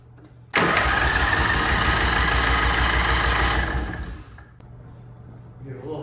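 A car engine being checked for a knock cranks and catches loudly, running hard for about three seconds before settling into a quieter idle with faint ticking.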